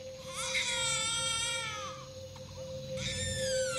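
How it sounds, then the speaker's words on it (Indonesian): A woman's faint, eerie moaning and whimpering, used as a horror effect. Two drawn-out, wavering wails are separated by a short pause and sit over a steady low hum. "Samar-samar mulai terdengar suara rintihan wanita"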